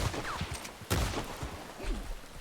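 A single sharp gunshot from a firearm in the Red Dead-based WildRP role-play game rings out near the midpoint, loud and abrupt against quieter in-game background noise.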